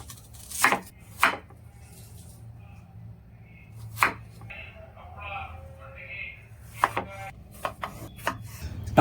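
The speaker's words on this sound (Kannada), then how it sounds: "ಕ್ಯೂಬ್ಸಾಗಿ ಕಟ್ ಮಾಡ್ಕೊಳ್ಳೋಣ." Pizza topping vegetables are chopped into cubes on a board, a handful of sharp knife thuds in small clusters separated by quiet gaps, with soft speech in between.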